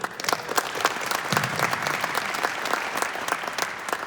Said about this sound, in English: so let's cheer for them loud